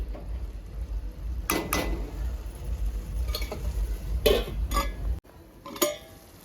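A spoon scrapes and clinks against a pan while mutton liver gravy is stirred, a few sharp metallic knocks and scrapes spaced irregularly over a low background hum.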